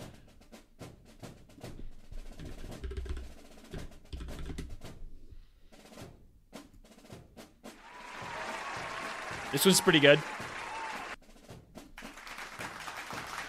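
An applause sound effect on a livestream, a broad wash of clapping swelling for a few seconds with a brief louder burst, following and overlapping casual talk from a streamer.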